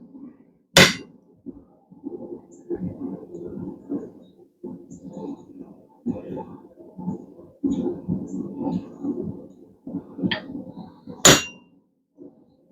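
A hammer strikes a punch on steel at a blacksmith's forge: two sharp metallic strikes ring out, one early and one near the end, with a quieter tap between, over a steady background of muffled shuffling and clatter.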